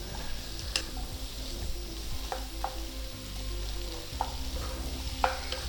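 Onions, tomatoes, garlic and ginger for paneer butter masala sauté in a pan, a continuous close sizzle broken by repeated scraping stirs and occasional utensil taps against the pan.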